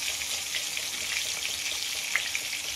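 Tomato and onion frying in a pan, a steady, even crackling sizzle that stays soft and continuous throughout, with a faint pop or two and no voices.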